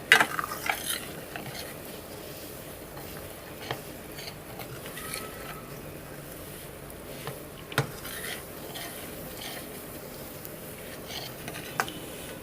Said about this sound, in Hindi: आहिस्ता आहिस्ता इसको सूजी को भूनना है ताकि ये गोल्डन हो जाए, इसका कच्चापन ख़त्म हो जाए।